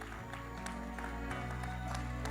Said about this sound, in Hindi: अनुराग बासु साहब के लिए जोरदार तालियां हो जाए